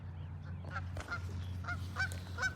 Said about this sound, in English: That's why geese are a menace to society.